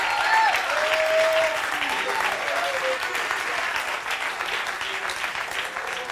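Congregation clapping hands together in a church service, a full, continuous burst of applause from many people that gradually eases, with faint voices underneath.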